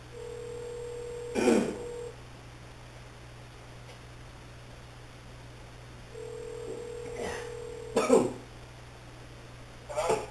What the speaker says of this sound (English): we're going to get Byron Matthews on the phone and ask him a question